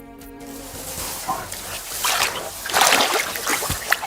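A bear splashing and sloshing in a desert oasis pool as it drinks, with wet, irregular splashes growing louder toward the end over a low background.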